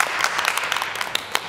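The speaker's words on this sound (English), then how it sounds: "Everybody applaud." Theater audience applauds, a steady patter of many hands clapping with a few sharper claps standing out.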